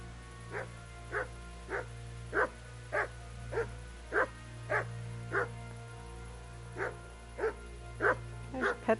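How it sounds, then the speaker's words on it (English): A dog in the medieval game Kingdom Come: Deliverance barks in a steady, repeated series of about a dozen short, evenly spaced woofs, fairly close and clear over a low background hum. "I'm gonna have this barking dog problem"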